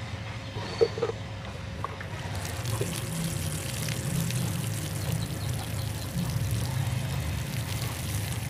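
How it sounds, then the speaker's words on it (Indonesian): Water poured from a container onto a bonsai outdoors, with a steady splashing, trickling wash that starts after a couple of seconds and continues at a moderate level over faint background sounds. "Sekarang kita siram."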